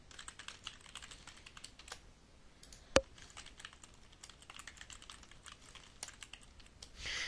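Soft, quick typing on a computer keyboard as a blog post is written in content management software, steady rapid clicks with one sharper tap partway through, fairly quiet and close with no talking.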